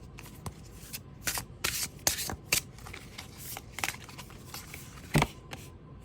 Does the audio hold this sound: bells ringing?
no